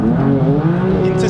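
A tuned BMW M4 with traction control off pulls hard in first gear, its engine note rising in a loud, close, steady climb.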